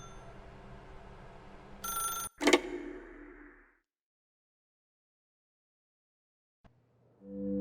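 A telephone rings in The Stanley Parable Ultra Deluxe video game: a short, loud burst of ringing just before the two-second mark that quickly fades to silence, followed by a faint low hum near the end.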